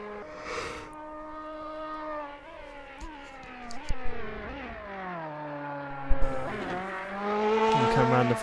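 Ferrari GT2 race car in a racing video game, engine note rising and falling through gear changes as it laps the track, with brief tire squeal and a louder surge near the end; no talk over it.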